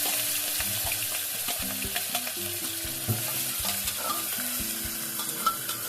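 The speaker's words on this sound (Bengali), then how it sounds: "এটাকে ভালো করে ফ্রাই করে নিতে হবে।" Chopped onions frying in a pan for mutton kosha sizzle steadily, with a spoon scraping and stirring in irregular knocks over the hiss, close up and without talk.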